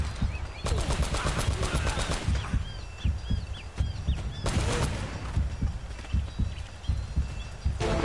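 A mounted gun in the video game Uncharted fires in rapid bursts of loud, close gunshots, with short pauses between volleys over a busy game soundscape.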